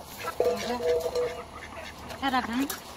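A chicken at a local market clucks and squawks in a couple of short bursts, close by, amid background chatter and voices.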